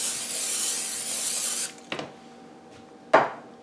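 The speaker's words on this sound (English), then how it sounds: "I'm just going to spray it with a non-stick cooking spray." Non-stick cooking spray hisses steadily into a 9x13 cake pan for over a second and a half, then stops; a couple of short knocks and clatters from the pan follow, close by and fairly loud.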